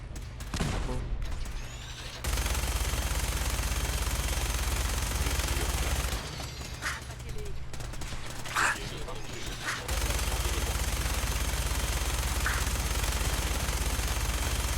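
Fallout 4 combat: bursts of automatic gunfire and sharp shots, including a grenade blast, crackle loudly in dense stretches broken by brief lulls, while someone talks over the action.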